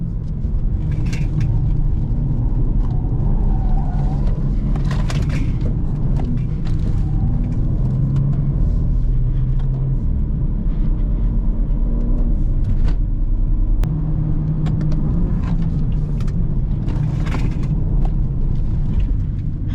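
A straight-piped Porsche 911 exhaust rumbles continuously while driving on the road, a loud, deep drone with a few sharper mechanical and traffic noises mixed in.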